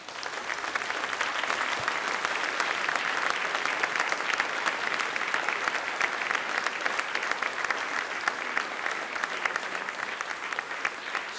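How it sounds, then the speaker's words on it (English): Crowd at the Biennale Arte 2015 awards ceremony gives the artists a sustained round of applause, thick and even clapping from many hands that carries on without a break. "can we just simply give a huge round of applause to the artists?"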